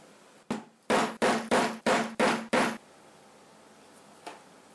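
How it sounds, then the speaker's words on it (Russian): Six sharp, loud mallet strikes on a hole punch driving through the folded edge of a leather wallet, in quick even succession, then quiet with one faint tap. "на подгибе нужно пробить отверстие"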